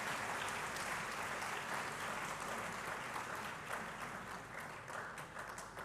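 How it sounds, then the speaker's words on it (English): Sustained applause from a large audience at the KCCR 25th anniversary celebration, a dense steady wash of clapping that fills the whole stretch without a break and tapers only slightly toward the end. "You can clap further."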